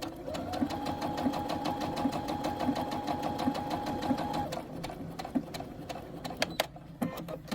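A Brother SE700 sewing machine stitches close by in a steady, fast, rhythmic hum that runs unbroken for several seconds, then stops, leaving a few light mechanical clicks.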